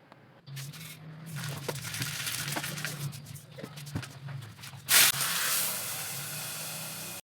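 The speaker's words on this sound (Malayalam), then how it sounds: "ശേഷം കറി ഒന്ന് 2 ചുവന്ന മുളകും പിന്നെ കടുകും പിന്നെ വേപ്പിലയും കൂടി ഒന്ന് വെളിച്ചെണ്ണയിലൊന്ന് വറുത്തെടുത്തു കേട്ടോ." Red chillies, mustard seeds and curry leaves frying in coconut oil for a Kerala ash gourd curry, a soft crackle with scattered pops and a low hum, then a sudden loud hiss near the end.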